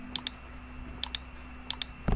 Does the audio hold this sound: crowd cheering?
no